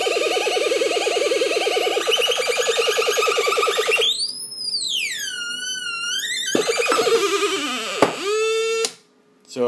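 Light-sensitive Atari Punk Console synth, a pulsing buzzy tone that gives way to swooping, warbling sweeps and sharp pitch dives, electronic and continuous with brief gaps.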